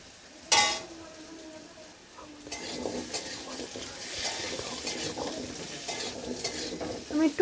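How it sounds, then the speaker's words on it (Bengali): Potatoes fry in a little oil in a kadai, sizzling steadily while a spoon stirs and scrapes against the pan, with a sharp clink near the start and a couple of louder knocks at the end. "এবার আমি কড়াইতে একটু তেল দিয়ে দিয়েছি, দিয়ে আলুগুলোকে ভেজে নেব লাল লাল করে একটু।"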